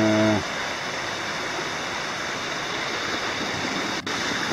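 Steady, loud rush of the Sandy River flowing at an Appalachian Trail crossing in Maine, a continuous broadband roar of moving water filling the whole clip, with a brief low tone at the very start.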